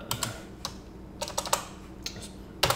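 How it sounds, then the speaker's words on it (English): Several quick bursts of keystrokes on a computer keyboard as a Java compile command is typed at a DOS prompt, close and fairly quiet, with short pauses between clusters of clicks. "Type in Java C constructor overloading.java."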